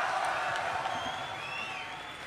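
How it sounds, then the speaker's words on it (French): Audience at an esports final applauding and cheering, a distant, steady crowd roar that fades slightly, with faint whoops rising above it. "on les applaudit"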